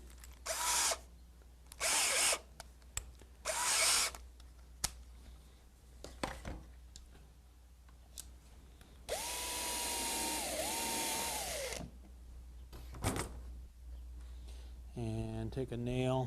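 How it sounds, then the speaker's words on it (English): A power drill bores a small hole in the band of an old oak bucket in several short whirring bursts and then one longer sustained run, close up, with someone talking between bursts. "I'm going to put a small hole in the band."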